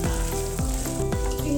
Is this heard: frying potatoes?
yes